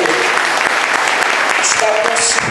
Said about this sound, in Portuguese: eu quero aqui pedir uma salva de palmas